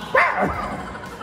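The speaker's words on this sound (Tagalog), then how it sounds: "Tumahol ang aso." A dog gives a single loud, close bark with a short whimpering yip trailing after it, heard alone against a quiet background.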